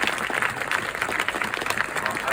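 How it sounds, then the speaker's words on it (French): A French convention audience applauds cosplayers called onto the stage, a brief, dense wash of clapping with crowd murmur running throughout. "On les applaudit."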